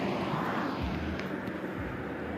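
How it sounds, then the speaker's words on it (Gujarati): An airplane passes over mountainous Nepal, its engine a soft, distant low drone that stays steady throughout. "જો મિત્રો વિમાન જાય જુઓ."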